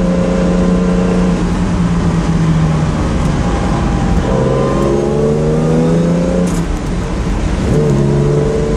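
A Jaguar Superlight E-type engine revs loudly and close up, its exhaust note climbing and falling in several repeated surges over a steady running drone, with no talking.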